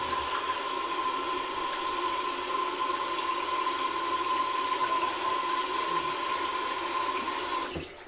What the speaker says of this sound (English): going to go ahead and get my water started.